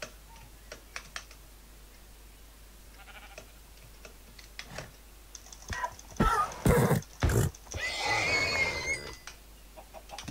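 Keyboard typing and clicks run throughout, then a loud, wavering horse whinny from horses in the video game Minecraft rises near the end alongside game sound effects.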